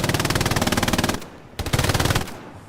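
A machine gun fires from the hip in a World War II shooter set in Kharkov, loud and close. Two long rapid bursts are split by a short pause, with no talk over them.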